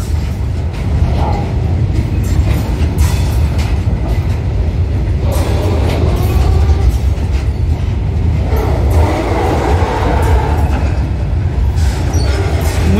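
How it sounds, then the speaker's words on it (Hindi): A long DFCCIL goods train rolls along a newly built railway line near Surat, a steady loud rumble with rhythmic wheel clatter that fills the whole stretch without a break and no voices over it. "ये देखिए DFCCIL की पूरी लंबी ट्रेन नए रेलवे ट्रैक से जा रही है।"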